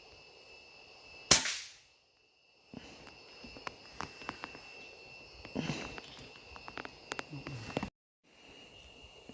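A single sharp shot rings out near the start while hunting in the forest, a loud crack with a short decaying tail, followed by a quiet stretch and then rustling, shuffling movement nearby.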